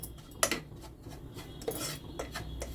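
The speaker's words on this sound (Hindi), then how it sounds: "हाथ चलाते रहेंगे बराबर कि जले ना" Semolina roasts over medium heat in a pan while a utensil stirs it steadily, giving dry scraping strokes and a few sharp clinks of metal on the pan, close and fairly quiet.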